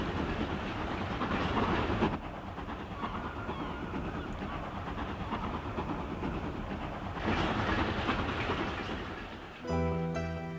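A steam train rumbles steadily along the rails beside a loch shore with a continuous rolling clatter, swelling louder at times, before a sustained whistle-like tone sounds at the end.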